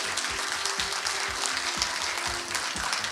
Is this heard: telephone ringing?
no